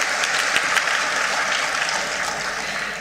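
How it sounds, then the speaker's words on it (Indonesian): Sustained applause from an audience honoring graduates at a university graduation ceremony in Indonesia, a dense, steady wash of many hands clapping that fills the hall for several seconds with no speech over it. "Kalau boleh tepuk tangan buat para wisudawan."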